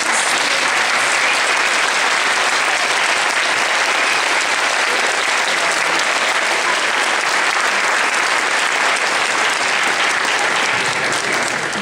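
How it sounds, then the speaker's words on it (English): Audience applause at a gathering with board members and a mayor, a dense sustained clapping of a large crowd that holds steady throughout the whole stretch. "please stand for a round of applause"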